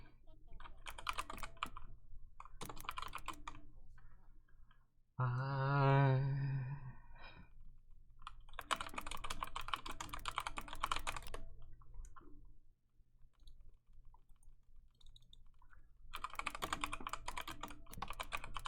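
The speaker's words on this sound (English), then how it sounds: "I got a new keyboard recently. How's the sound for it?" Rapid clicky typing on a new computer keyboard, loud and close, in three bursts separated by a pause in which a person sighs or makes a long vocal sound.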